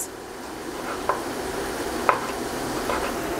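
Potatoes fry in a pan with a soft, steady sizzle, and a couple of light clicks from stirring rise briefly above the quiet crackle.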